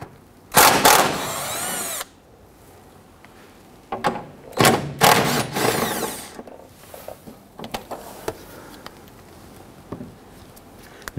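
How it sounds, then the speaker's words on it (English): A power drill with a 13mm socket runs in two loud bursts, taking out the strut rod bolts on a 1997-2006 Jeep Wrangler during front fender replacement, followed by clinks and clatter of handled parts. "Using a 13mm socket, remove the 2 bolts holding the strut rod right here"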